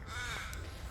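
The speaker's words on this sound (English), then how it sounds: "There's one crow that you can see." A single crow gives a short, faint caw from a distance near a flowing river in the morning.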